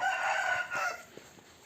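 A rooster crows near a coop holding Indian-type chickens, one loud drawn-out call that fades into faint clucking.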